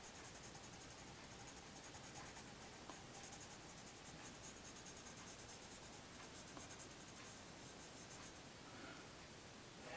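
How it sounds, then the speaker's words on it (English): Pencil shading a cartoon turtle drawing with the side of the graphite on paper, a steady close-up scratchy rubbing that goes on without a break the whole time, with no talk. "use the side of my pencil. By using the side of your pencil, you can cover a lot more distance and area"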